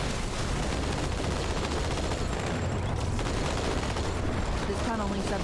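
Continuous dense gunfire from the video game Halo 2: Anniversary, a steady roar of rapid shots and impacts holding a constant level throughout, with voices faintly underneath.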